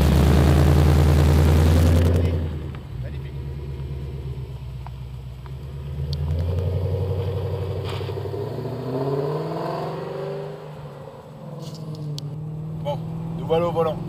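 A BMW 645Ci E63 coupé's V8 idles with a loud low rumble, then drives off, the engine note rising and falling through gear changes, with speech over parts of it.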